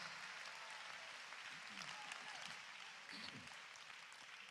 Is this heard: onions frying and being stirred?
no